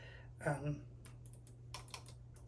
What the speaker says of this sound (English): Has nice clicking sounds, and a nice crisp keyboard.